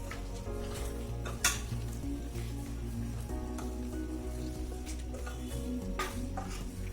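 Chicken frying with cashew nut paste in a pan sizzles steadily while a spoon stirs and clinks against the metal in irregular strokes, with no talking.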